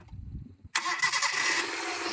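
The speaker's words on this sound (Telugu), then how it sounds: "మళ్ళీ సెల్ఫ్ కొట్టనా" A 2007 Hyundai Santro Xing top-end model cranks on its self-starter and catches almost at once, then settles into a steady, close idle after a brief quiet lead-in.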